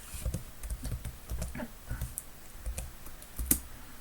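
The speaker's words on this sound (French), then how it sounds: "si je tape type de x" Steady typing on a computer keyboard, with close, rapid key clicks in an uneven rhythm and one louder keystroke near the end, and no voices.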